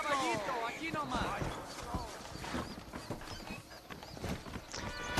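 Horse hooves clip-clopping at a steady riding pace in the video game Red Dead Redemption, mixed with in-game voices talking over the rhythmic hoofbeats.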